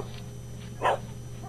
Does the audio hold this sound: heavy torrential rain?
no